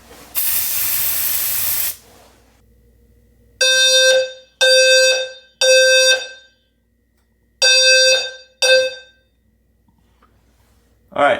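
A home fire alarm system sounds after a smoke detector test: a loud hiss of test smoke spray, then several sharp, loud electronic horn blasts in short bursts with gaps between them.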